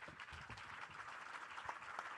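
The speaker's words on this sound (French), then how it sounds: "Vous pouvez les applaudir." Audience applause at the close of a conference debate on digital emancipation: a dense, steady wash of many hands clapping, fairly faint and distant, with no voices over it.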